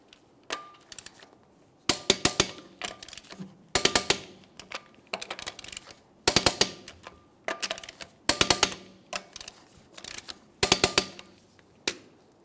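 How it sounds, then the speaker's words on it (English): Torque wrench tightening lug nuts to 122 foot-pounds on a 2007–2018 Jeep Wrangler wheel: repeated sharp metallic clicks and clinks in bursts, with pauses between nuts, close and fairly loud, no talking. "we'll go ahead and torque each of them to 122 foot-pounds"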